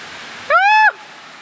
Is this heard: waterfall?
yes